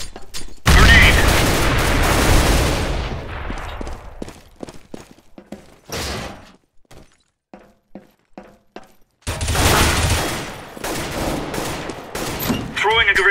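Counter-Strike: Global Offensive gunfire and grenades, loud close bursts of rapid shots, then a sparse run of single cracks and thuds before another heavy barrage of fire and blasts, with game voice callouts.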